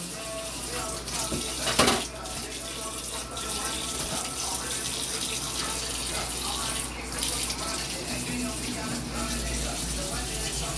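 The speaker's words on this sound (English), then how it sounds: "I'm cleaning my sink out." Water runs steadily from a faucet into a kitchen sink during cleaning, a constant close splashing with a few clanks and shifts in the flow, while someone talks over it.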